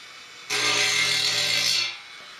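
A small Dremel rotary tool deburring a soldered keg fitting makes a close, steady high-pitched grinding whine that starts abruptly, lasts about a second and a half, then stops.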